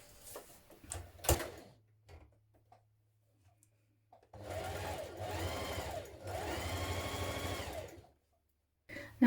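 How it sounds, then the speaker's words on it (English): Sewing machine stitching the seams of a top, two steady whirring runs after some quiet handling clicks and knocks, fairly close and moderate in level. "So we're going to sew those seams now."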